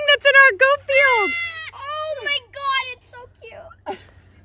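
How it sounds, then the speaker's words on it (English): A newborn baby goat bleating in a goat field, a rapid string of high, wavering cries close by, with people talking over the calls. "A baby goat."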